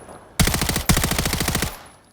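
Two quick bursts of rapid automatic fire from an MP9 carbine in Call of Duty Modern Warfare III, sharp, loud and close, the second burst running longer before cutting off.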